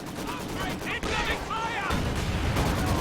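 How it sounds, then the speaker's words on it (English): Infiltration grenades exploding in a Company of Heroes 2 3v3 match, a burst of sharp blasts and gunfire layered with game effects while a commentator talks over it. "Oh, was that infiltration grenades? Or was that just 2 grenades?"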